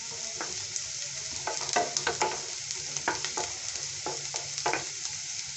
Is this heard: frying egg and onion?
yes